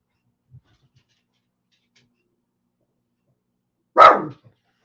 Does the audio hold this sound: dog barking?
yes